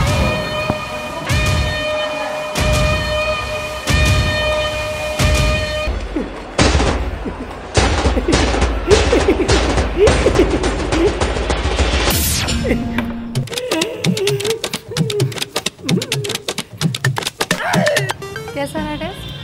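Gunfire bursts out in a comedy sketch, a rapid run of sharp cracks stacked into a volley that alternates with horse neighs and dramatic sound effects, loud and close, while people talk excitedly over it.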